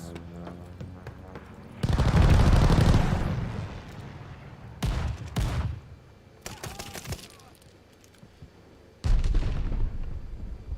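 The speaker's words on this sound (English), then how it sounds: "Enemies called a strafing run." An enemy strafing run in Call of Duty Vanguard hits with separate heavy bursts of gunfire and booming impacts, loud waves that start abruptly and die away, separated by quieter stretches of background battle noise.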